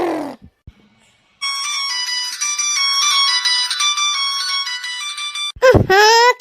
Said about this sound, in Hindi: क्या का फोन बाजे लागा भाई